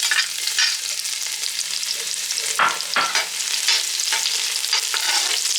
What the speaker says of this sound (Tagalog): Init ang ating mantika or olive oil. Okay, lalagyan na natin ng bawang.